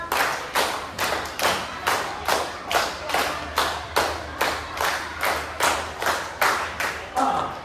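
Steady rhythmic clapping from a group of students in a classroom, about two claps per second, loud and evenly spaced with no voices.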